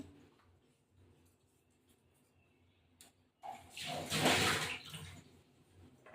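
A little broth is poured into mutton biryani in a pot, a brief splashing gush rising after a quiet stretch, close and moderately loud, then tapering off.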